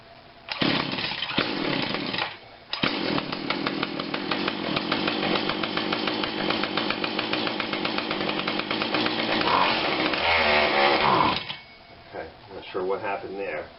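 A Husqvarna 142 40cc chainsaw fires up after repair and runs loud and close with a rattling two-stroke buzz, cutting out briefly, restarting, then sputtering and dying near the end.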